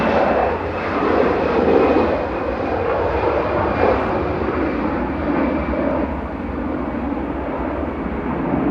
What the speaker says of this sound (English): Iberia departing back to Madrid with flight